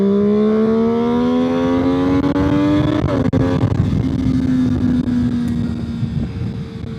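Aprilia V4 Tuono-class sport motorcycle engine revving hard at full throttle, rising harmonics climbing steadily, a brief gear change near the middle, then pulling on loudly with wind rush across the microphone; no talking.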